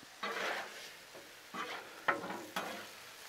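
Seasoned ground meat for taco pasta stirred on a Blackstone griddle, with four separate bursts of scraping and sizzling spaced about half a second to a second apart, close and fairly quiet over a steady low hiss.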